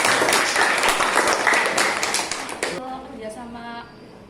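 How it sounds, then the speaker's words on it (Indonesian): Classroom students clapping their hands for a classmate, a dense burst of claps that fades into quieter room sound with a voice near the end. "Oke, tepuk tangan dulu."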